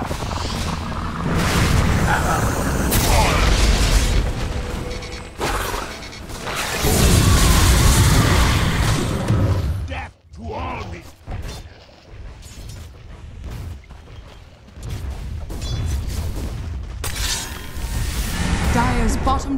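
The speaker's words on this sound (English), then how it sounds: "Dire's bottom tower is under attack. Dire's bottom tower has fallen." Heavy crashes and booming impacts sound as a tower in Dota 2 is attacked and brought down, loud bursts coming in waves with a brief lull midway, under an announcer voice and commentary.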